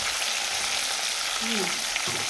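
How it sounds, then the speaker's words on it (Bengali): Fish coated in salt and turmeric frying in hot oil, giving a dense, steady sizzle that stays loud and even throughout. "এখন ভেজে নিই তাড়াতাড়ি করে"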